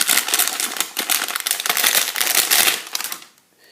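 LG in-ear earphone packaging being opened by hand, with close crackling, tearing and rustling of plastic and cardboard in quick bursts that fade near the end.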